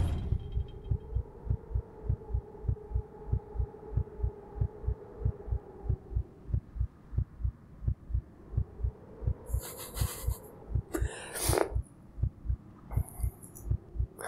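Steady heartbeat in the horror video game Nowhere: Lost Memories, a low rhythmic thumping pulse repeating about twice per second throughout, with a faint hum and a few brief game noises near the end.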